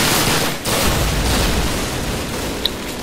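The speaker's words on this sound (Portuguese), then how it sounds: "Por que ele só dá tiro em mim, mano?" Gunfire and explosions in the video game Call of Duty, a loud continuous dense barrage of shots and booms with one sharp crack near the end.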